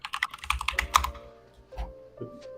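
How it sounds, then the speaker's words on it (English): Rapid, close keystrokes on a computer keyboard clatter in quick bursts for about a second, then thin out into a few scattered clicks while a steady tonal hum lingers in the background. "Everyone hates the keyboard."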